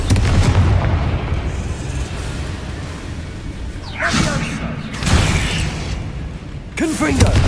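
Confringo explosive spells go off in Hogwarts Legacy, several booming blasts with bright crackling bursts set against a busy, rumbling combat backdrop, with voices speaking over parts of it.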